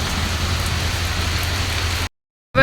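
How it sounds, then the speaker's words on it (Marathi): Steady rain falls outdoors in a village, a dense, even hiss of drops on surfaces with a low rumbling undertone, continuous for about two seconds before cutting out abruptly, then briefly returning. "वातावरण कसं झालंय पाऊस"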